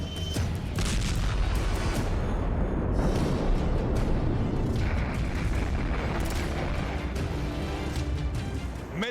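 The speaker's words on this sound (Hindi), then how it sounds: "मिसाइल फायर हुई।" Missile launch in the Russia–Ukraine war, a sustained, dense roaring blast that stays loud and rumbling throughout with no pauses, heavy low-end boom dominating.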